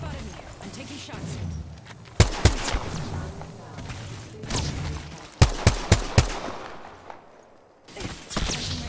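Gunfire rattles in the video game Apex Legends, several sharp bursts of close shots in quick clusters, with loud in-game action and effects filling the gaps between them.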